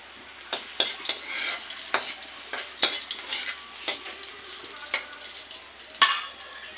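Onions fry with a steady sizzle in a pan while a spoon scrapes and clacks against the metal in repeated sharp strokes, close and fairly loud, with no talk.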